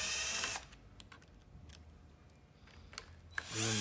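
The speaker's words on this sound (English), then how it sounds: "unscrew the battery positive" A tool loosens the positive terminal on a car battery, giving a quiet run of short ratcheting clicks and metallic ticks between louder bursts of noise at the start and end.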